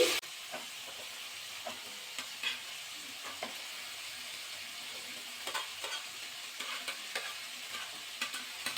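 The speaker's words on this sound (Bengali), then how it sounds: "ভালো করে কিন্তু সব সবজিগুলো কিন্তু মিশিয়ে নিতে হবে" Spatula stirring beans and hyacinth-bean vegetables with greens in a hot pan, a steady soft sizzle with scattered scraping clicks close by, no voices.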